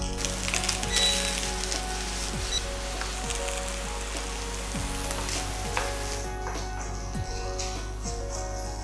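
Egg fried rice with Schezwan sauce sizzles steadily in a hot pan while being stirred, with a continuous crackle over a low hum and occasional scrapes.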